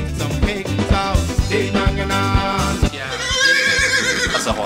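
A horse neighing in a loud, wavering whinny that rises and falls over several seconds. A faint background murmur sits underneath.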